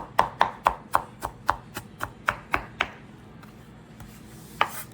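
Knife rapidly mincing onion on a cutting board, a steady run of about a dozen sharp close chops, then a pause and one last chop.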